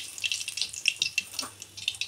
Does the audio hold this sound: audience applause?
no